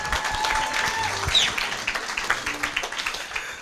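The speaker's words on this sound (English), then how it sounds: "give them a round of applause." A round of applause for two co-founders at the opening of an agricultural career fair, steady clapping that thins into scattered claps toward the end, with talk underneath.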